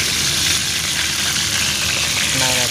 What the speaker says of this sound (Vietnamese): Đùi gà chiên nước mắm.